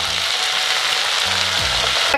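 Chengmora greens and chopped potatoes fry together in hot oil in a wok, giving a steady, close sizzle with a few soft stirring scrapes throughout.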